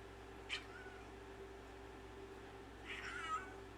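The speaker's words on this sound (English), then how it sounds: "You hear my cat in the background?" A cat meows faintly in the background, one short call and then a longer drawn-out meow a few seconds later, over a quiet room hum.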